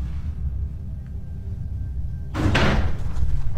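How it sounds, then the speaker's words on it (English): A door slams shut with a single loud, sharp bang, cutting abruptly through a low, rumbling room background and then fading into a brief reverberant tail. "All right, that door just slammed shut."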